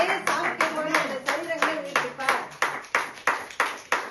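A church congregation claps in a steady, rhythmic beat, roughly two claps per second, while a voice talks or sings over the clapping throughout.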